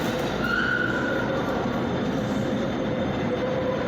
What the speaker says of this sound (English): And then here's a 36 again for Eastwick.